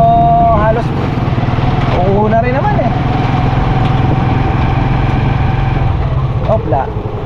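A motorcycle engine idles close by with a steady low chugging throb throughout, while voices talk over it in short bursts.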